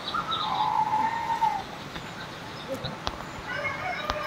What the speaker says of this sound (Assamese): চৰাই চিৰিকটি যেনে তেনে চিঞৰ বাখৰ কৰি আছে চিঞৰি আছে